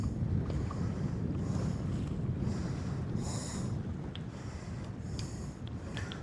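Wind gusts buffet the microphone while someone fishes from a boat on open water, a low, uneven rumbling roar that stays steady throughout, with faint splashes and small clicks scattered on top.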